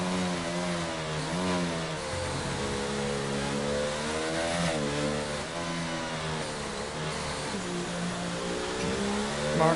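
Race car engines from a racing video game at Silverstone circuit roar continuously as two cars duel side by side, high revving tones rising and falling with gear shifts, loud and steady throughout.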